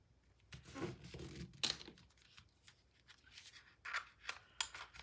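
A corner rounder punches and trims paper corners for an 8 x 8 mini album, heard as faint, close crunching snips and rustles spaced irregularly, with no talking over them.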